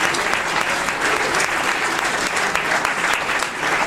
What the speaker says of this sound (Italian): Io direi di fargli veramente un applauso a lui